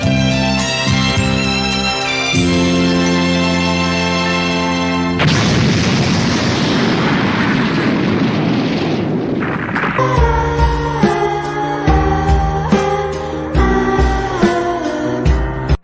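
The planet Big Gete Star blows up in Dragon Ball Z: a loud, rumbling explosion roars for several seconds between stretches of dramatic orchestral music, which swells back in afterward.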